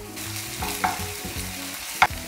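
Chopped onions fry in a hot pan as soy sauce goes in for paneer satay, giving a steady close sizzle with a couple of sharp spatula scrapes and clinks, no voices.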